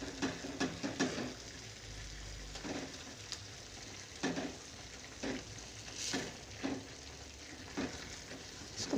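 Tomatoes simmering down with freshly added green chilies in a pan for chutney give a soft, low sizzle, broken by several short clinks and scrapes of stirring spaced through the passage.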